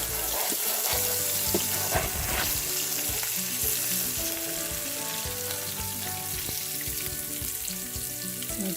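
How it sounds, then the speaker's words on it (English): Steady, crackling sizzle of masala frying in a hot pan for seer fish chilli fry, continuous and close, with occasional soft scraping and stirring. "You want to continue frying this masala if you're interested in eating it."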